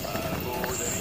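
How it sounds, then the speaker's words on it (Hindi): Footsteps in a horror video game set in a haunted jungle: a steady rhythmic run of steps over a constant background, with muffled voices underneath. "पैरों की आवाज, चलने की आवाज है।"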